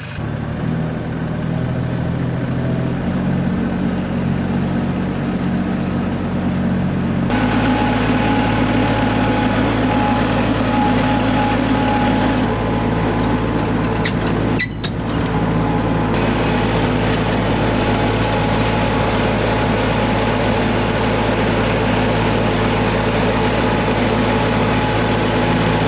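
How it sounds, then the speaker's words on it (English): A tractor on a Portuguese homestead rumbles at close range, its engine catching and settling into a loud, steady low drone with a brief shift partway through. No voices. "starting up the tractor and then we can go"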